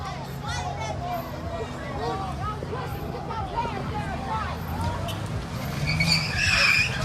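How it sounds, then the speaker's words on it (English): Car tires screech in a long, wavering squeal as a car pulls a U-turn on a city street during a nighttime protest in Charlotte, heard at a distance under crowd chatter and traffic. "He just pulled a screeching U-turn."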